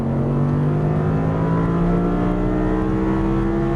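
An Audi R8 V10 accelerates hard on the Exotic Racing track in Las Vegas, the engine's loud, rising howl climbing steadily in pitch with no voices over it.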